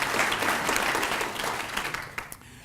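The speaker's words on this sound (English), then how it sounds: "So give them a round of applause." Audience applause at a State of the City address, a full burst of clapping that thins and fades out toward the end, with no one speaking.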